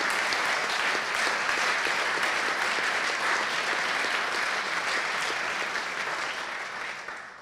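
A large audience claps at a speech in Styria, a thick, even roar of applause that holds steady and then begins to fade in the final seconds.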